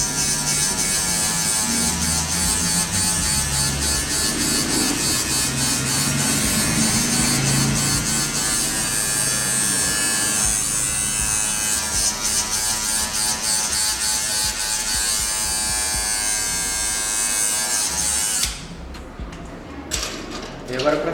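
An electric hair clipper with a size 3 guard buzzes steadily through a mid fade haircut, a close continuous hum that cuts out near the end and restarts with a few short bursts.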